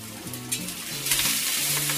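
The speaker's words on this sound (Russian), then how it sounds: "масло у нас раскалено чтобы вот это мясо проваривалось" Pork ribs fry in very hot oil in a pan with carrots, giving a loud, continuous sizzle with a few stirring bumps over a steady tonal hum.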